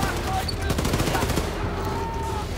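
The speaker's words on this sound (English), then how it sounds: "And I kind of opened fire on him before I tried meleeing" Rapid automatic gunfire from Wolfenstein II The New Colossus rattles in a dense, loud burst that runs through the whole moment, with a voice faintly mixed in beneath.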